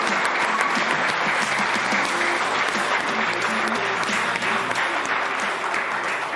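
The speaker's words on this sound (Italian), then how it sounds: "Allora, facciamo un bel applauso." Sustained studio applause on a local sports broadcast, dense and loud throughout, with music or voices faintly underneath.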